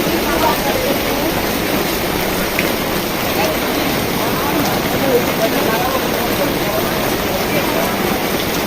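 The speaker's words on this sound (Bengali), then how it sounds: "অনেক জোরে বৃষ্টি পড়তেছে।" Heavy rain pours steadily around people sheltering at a coffee stall near fairground rides at Sonargaon Rajbari, Bangladesh. The close, even roar of falling water continues without a break throughout.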